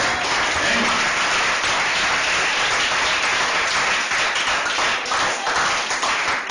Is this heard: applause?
yes